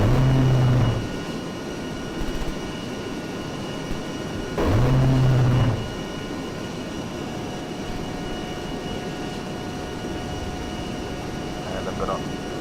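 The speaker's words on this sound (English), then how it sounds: "Let's just hear those gun sounds." Cannon fire from an A-10C Thunderbolt II in the video game Arma 3, two short heavy bursts about four seconds apart over a constant jet engine drone.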